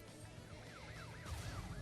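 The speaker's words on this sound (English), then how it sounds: "Oh, you jerk police car." A police car siren in Crash Bandicoot 3 wails in a repeating rising-and-falling pattern, moderately loud above a busy racing-game background, lasting under two seconds.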